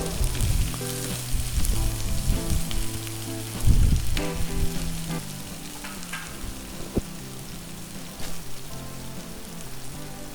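Sliced onion, green chillies and curry leaves hit hot oil in a pan for Sri Lankan thibbatu malluma, giving a loud, steady sizzle with bursts of crackling spatter and occasional clinks, alone without talk.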